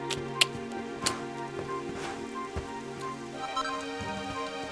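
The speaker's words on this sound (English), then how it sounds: "It would have to go and start raining, wouldn't it?" Rain falls in the video game Dragon Quest XI, a steady patter with a few sharp drop-like ticks and soft game music running beneath it.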